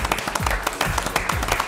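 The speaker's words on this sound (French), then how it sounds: "Sarah, on peut l'applaudir." An audience applauds at a televised swimwear fashion show, a steady, fairly close patter of clapping with no voices.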